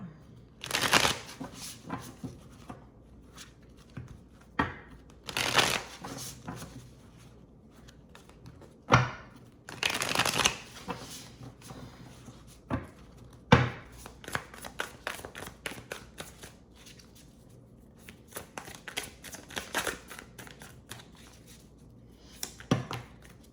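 Tarot cards being shuffled by hand in repeated bursts of riffling and flicking, close and fairly soft, with brief pauses between rounds over about twenty seconds.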